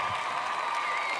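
Steady applause from a crowd at a Dharma Wanita Persatuan meeting of the East Jakarta Satpol PP, continuous and fairly even throughout, with no voices standing out.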